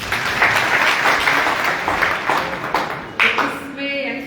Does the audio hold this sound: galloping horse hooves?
no